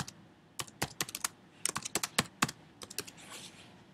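Rapid keystrokes on a computer keyboard come in short, uneven bursts with brief pauses between them. The clicks are close, crisp and alone, with no talk.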